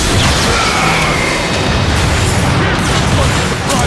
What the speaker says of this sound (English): It's coming from that warp cannon.